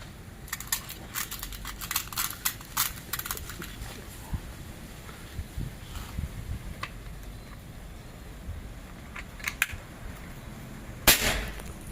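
A Predator multi hunting air rifle with a 30 cm Yumaja barrel fires a sharp, close shot near the end, after a stretch of scattered light clicks and handling noises.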